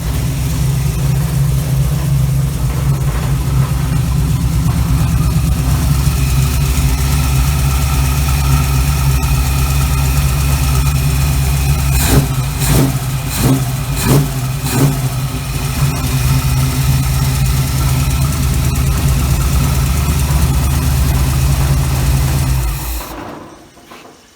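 A 1936 Chevy coupe engine with a Holley carburettor and a faulty choke idles steadily and loudly up close, with a few sharp blips midway before the engine shuts off at the end.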